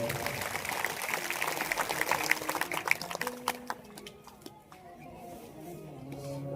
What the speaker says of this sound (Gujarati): અમારે સાઉન્ડ વાળા ભાઈ, એમને પણ એક